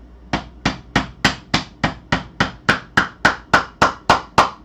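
Parts of a 3D belt printer are tapped into place with a hammer, about sixteen sharp close knocks at a steady, slightly quickening rhythm, each ringing briefly before the next, with no talking.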